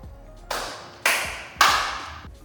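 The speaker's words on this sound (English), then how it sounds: "give me a clap" Three sharp hand claps, evenly spaced and loud, ring out in a Dubai residence with a three-story ceiling and a floor-to-ceiling glass wall; each leaves a long, bright echo that decays before the next.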